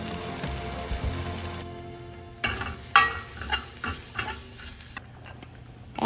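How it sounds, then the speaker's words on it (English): Onions fry in a little oil in a pan with a soft, steady sizzle and stirring scrapes, the crackle rising after a pause and continuing in irregular bursts. "heat a little bit oil and fry rest of the onions till they are"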